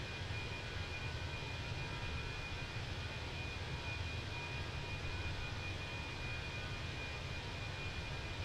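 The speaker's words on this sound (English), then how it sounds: "Not hearing anything, just jet wash." Steady jet engine wash from an Airbus A320 in Microsoft Flight Simulator 2024, a continuous broadband roar with a faint high whine running evenly throughout, no voices.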